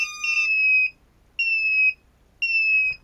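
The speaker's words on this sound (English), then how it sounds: "And it just pretty much just beeps." Three electronic beeps from a Walkera Furious 215 drone's flight controller board with a binding fault, each a steady high tone lasting about half a second, spaced roughly a second apart, close and clear with no talking.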